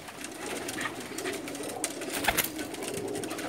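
Jaunsre Teddy pigeons cooing softly in a loft, low murmuring coos with faint rustles and a few brief clicks over steady background noise.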